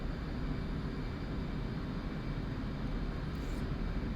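An F/A-18C jet engine in the DCS World flight simulator, a steady, loud, broadband roar that holds an even level throughout, with no voices.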